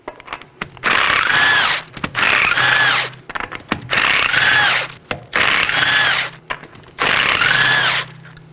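Five 19mm lug nuts coming off the rear wheel of a Chevrolet Equinox with a power impact tool, five loud close bursts of whirring rattle, each about a second long, separated by short pauses.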